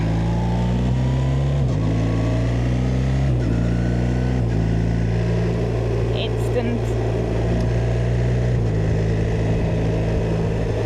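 A touring motorcycle with a hot-running engine accelerates on a road trip, its loud, steady drone stepping up in pitch through several gear changes while a rider talks over it.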